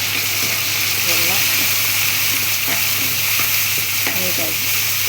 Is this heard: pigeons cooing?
no